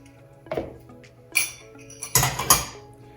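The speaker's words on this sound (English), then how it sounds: "So all we're going to do is simply add everything inside of your mixing bowl." Ingredients for a rhubarb crumble cake with chia and flax seeds go into a mixing bowl, producing several separate clinks and clatters of utensils against the bowl, with short quiet gaps between them.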